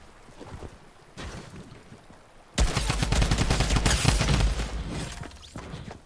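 Fortnite gunfire from a player's weapon: quieter game ambience and soft shots at first, then a loud burst of rapid shots and impacts lasting a couple of seconds, fading back to lighter game sounds.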